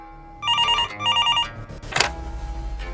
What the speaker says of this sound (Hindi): अभी मिस्टर सूर्या को फोन करता हूँ।